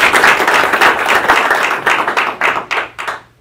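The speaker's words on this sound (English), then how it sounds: "So let's give him a round of applause." A room at a council meeting breaks into loud, close applause for an employee retiring after 36 years, dense clapping that thins into a few scattered last claps and stops.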